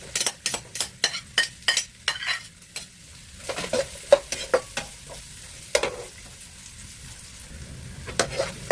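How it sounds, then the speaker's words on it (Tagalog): Garlic and then onion sautéing in cooking oil, with spoon stirring scrapes and sizzling bursts in a steady rhythm near the pan, some clinks of utensil against pot. "Gisa natin ang bawang sa mantika."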